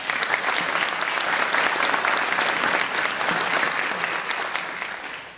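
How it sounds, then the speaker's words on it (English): Dense, sustained applause from the audience at a civic center ceremony, honoring the honor guard, holds steady and loud for several seconds before tapering slightly at the end. "Let's give them a round of applause"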